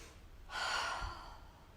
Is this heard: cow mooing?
no